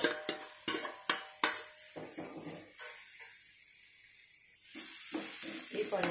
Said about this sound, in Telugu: ఈ పొటాటోస్ మరీ మెత్తగా స్మాష్ కాకుండా కొంచెం పీసెస్ ఉండేటట్టు కలుపుకుందాము